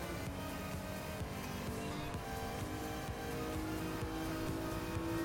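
A BMW M3 E46 racing in Gran Turismo Sport, its engine a loud, continuous, buzzing drone that holds a steady pitch and swells slightly toward the end, with no talking.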